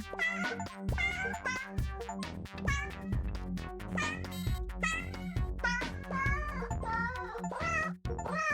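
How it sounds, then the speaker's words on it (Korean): Cartoonish cat meows in the video game 100 robo Cats come one after another in a dense, lively stream, loud and close, with no pauses between cries. "귀여운 고양이들의 울음소리를 들으며 기분을 한번 빠르게 전환시켜 줄 수 있는 그런 게임이죠"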